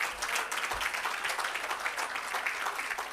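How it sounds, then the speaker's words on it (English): Applause from an outdoor audience at the commissioning and launch of an irrigation system and agro park, a steady dense patter of clapping that holds throughout at moderate level, with no voices over it. "Please give her another round of applause."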